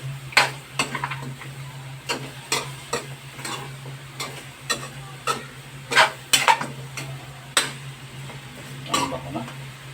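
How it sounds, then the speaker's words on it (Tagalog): A utensil stirs pork hock stew with soy sauce in a pot, making repeated clinks and scrapes against the metal at an irregular rhythm. A steady low hum runs underneath, and the sound is close and clear. "Haluin po ulit natin para ma-mix yung toyo niya."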